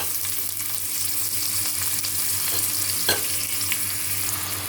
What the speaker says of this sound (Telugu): పచ్చిమిర్చి, కరివేపాకు వేస్తాం